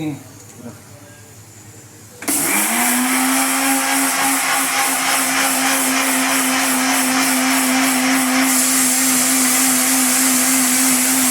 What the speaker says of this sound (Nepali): मासुको लागि चाहिँ मसला अझै पिस्नुपर्छ